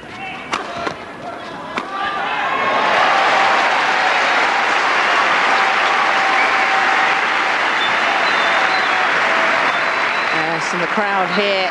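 A crowd in Birmingham applauding a men's doubles badminton semi-final at the All England championships, a few sharp shuttle hits at first, then a loud, sustained roar of clapping and cheering that fades slightly near the end.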